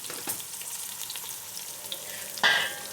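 Whole garam masala spices frying in a pot for matar pulao, giving a steady broadband sizzle with light stirring clatter and a louder burst of crackle near the end.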